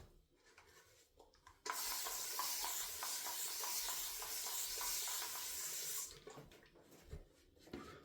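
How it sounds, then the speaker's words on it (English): Running water from a tap, added to a shaving lather made with Mitchell's Wool Fat soap, flows as a steady close hiss for about four seconds before cutting off, followed by faint handling sounds. "So it can take quite a bit of water, but you need to be a little careful not adding too much"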